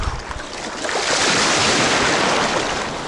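A Sea of Azov wave breaks with a loud rushing wash of surf that swells and holds, close by, with wind buffeting the microphone.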